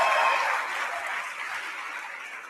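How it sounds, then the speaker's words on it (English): Steady clapping from a crowd at an awards ceremony, dense and fairly loud, tapering slightly toward the end. "One more round of applause for all of our finalists"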